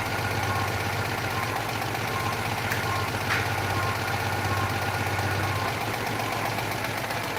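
A Citroën 2CV engine runs steadily on a dyno, a low continuous drone with a faint rattly texture, loud and close throughout with no speech.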